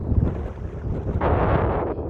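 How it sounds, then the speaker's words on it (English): Strong wind buffets the microphone in low rumbling gusts, growing rougher partway through. "It's really windy today"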